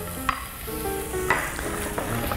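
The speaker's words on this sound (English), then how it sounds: "So we add on our vegetables. Get a nice little sizzle." Vegetables sizzling in a hot oiled pan while making curry ramen, a steady close frying hiss with a few sharp stirring clinks and scrapes, no talking.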